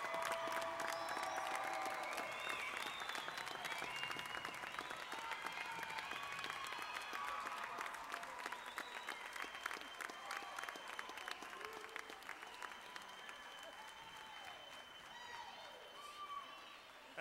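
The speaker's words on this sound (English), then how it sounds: "Let's give them a round of applause." An audience claps for a summer school graduating class at a public schools graduation ceremony, sustained crowd applause with cheering that fades slightly over its length, heard at a moderate distance in a large hall.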